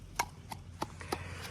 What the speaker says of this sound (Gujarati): તો મિત્રો આપણે લસણ કૂટવાનું ચાલુ છે.